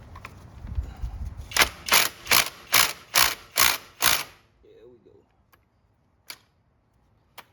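A rapid series of about seven evenly spaced mechanical ratcheting bursts, loud and close, as an impact driver spins a Harley-Davidson oil filter wrench on an extension to remove the oil filter, then a few faint clicks.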